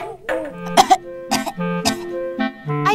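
A cartoon character with a cold coughs in several short, voiced, throaty bursts spread evenly across the moment, close and fairly loud, with no other sound between them.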